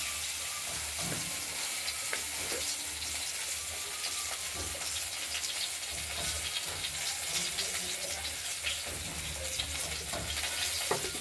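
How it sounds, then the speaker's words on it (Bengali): A bay leaf dropped into hot oil gives a steady, close sizzle with crackling spits and a few stirring scrapes, continuous and fairly loud with no talking. "তেলটা গরম হয়ে গেছে, তেজপাতা দিয়ে দিলাম।"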